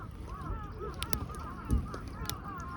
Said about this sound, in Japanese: カラスの群れが。